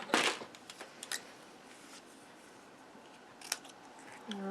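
Scissors snip through a sheet of stamped paper cardstock, with a couple of short cuts close by at the start and another brief snip near the end, set against quiet room tone.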